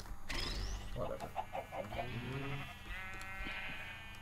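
Sheep in a modded video game bleat several times in quick succession, producing wavering, nasal calls that sit clearly in the foreground over soft game ambience.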